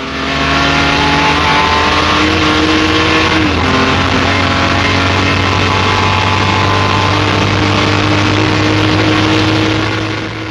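A Jaguar D-Type racing car's engine revs hard and steadily while the car slides sideways on track, a loud, close, continuous roar with shifting pitch and no voices.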